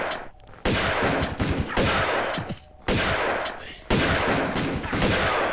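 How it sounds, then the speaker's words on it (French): A shotgun fires in Tomb Raider II: several loud, sharp blasts separated by short pauses, each with a dense, ringing tail that fills the gaps between shots. "Le fusil est quand même nettement plus efficace de près"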